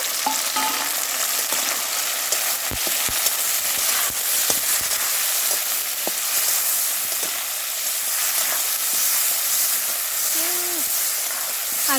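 Crab and tomato frying in a pan, a loud continuous sizzle and hiss with occasional scraping stir strokes and faint clicks, steady throughout with no talk.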